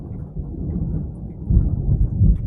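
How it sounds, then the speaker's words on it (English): Loud, deep thunder rolls and rumbles close by with low swelling booms, a faint hiss of rain underneath and no voices. "that was a loud thunder."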